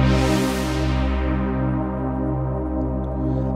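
A Korg Wavestate synthesizer holds a steady, sustained chord with a filter sweeping down from bright and buzzy to darker and muffled, loud and continuous throughout with no talking.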